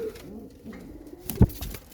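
Domestic pigeons kept for sale coo briefly at close range, a single low burst rising over quiet background rustle.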